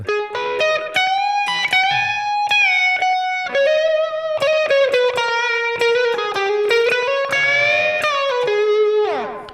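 Electric guitar lead in a vintage style, run through an analog delay effect in Ableton Live, plays a continuous run of sustained, singing notes with echoing repeats, loud and alone throughout.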